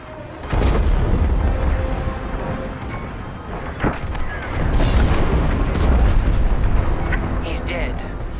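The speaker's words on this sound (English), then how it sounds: "The frigate is about to explode." A frigate exploding in the Star Wars: Squadrons video game, a loud sudden blast followed by sustained rumbling booms and crackling debris across several seconds, with voices heard amid the roar.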